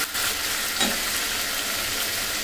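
Hot oil sizzling and spitting in a pan while frying for an egg and potato curry, a dense steady hiss with a sharper splatter burst partway through, close and loud, no voices.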